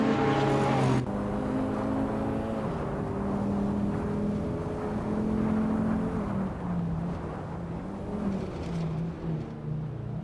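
Racing cars in a video game, among them a 1985 Alfa Romeo GTV 6, make a continuous engine drone with sustained tonal whines that shift pitch as the cars hold speed. The sound is loud and steady, with no talking.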